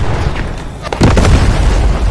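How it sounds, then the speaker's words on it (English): Explosion in the WWII shooter game Post Scriptum, a loud boom striking about a second in with a sharp broadband burst and rumbling low tail over continuous battlefield noise. "I just took damage from that explosion"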